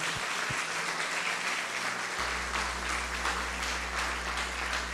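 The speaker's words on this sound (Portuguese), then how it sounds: "Aplauda ao Senhor." A church congregation claps together during a day-of-prayer service, dense sustained applause continuing throughout with a low steady hum beneath.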